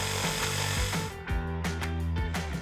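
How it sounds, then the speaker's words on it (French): A jigsaw cuts through pallet wood slats with a loud, buzzing rasp, its pitch dropping and jolting each time the blade bites into the wood, close up with no voices. "Je découpe avec une scie sauteuse."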